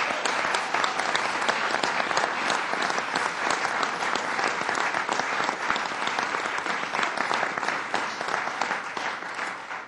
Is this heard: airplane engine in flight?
no